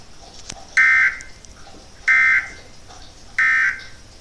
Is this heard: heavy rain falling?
no